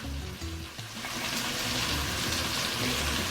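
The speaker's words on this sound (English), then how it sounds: "Now I'm gonna add 1 cup of water." Steady pouring and splashing as a cup of water goes into freshly ground ingredients for a chicken with poblano strips dish, close and fairly loud, with no talking.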